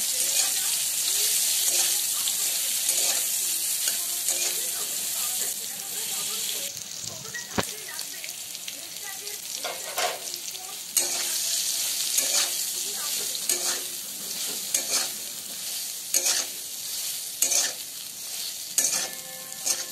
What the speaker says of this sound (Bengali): সয়াবিনগুলো একটু লালচে করে ভেজে তুলে নেব।